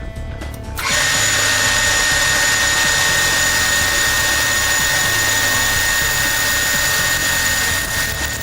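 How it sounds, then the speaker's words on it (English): A lathe with a 1/4 inch drill bit in the tailstock chuck starts up after a brief pause and then runs with a loud, steady whine and hum, continuous to the end. "Secure a 1/4 inch drill in the tailstock chuck."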